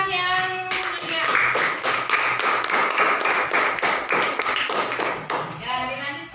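A classroom of students claps in a steady run of sharp, fairly close strokes, rising and falling in density for several seconds, with a teacher's voice heard briefly at the start and end.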